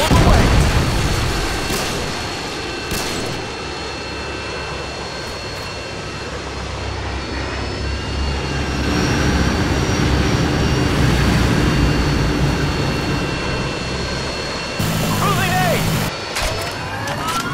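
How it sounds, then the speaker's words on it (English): An emergency airdrop aircraft flies over the Karachi map in Modern Warfare 2, its loud engine roar swelling and fading steadily for the whole stretch, with game sounds breaking in near the end. "Emergency airdrop on the way!"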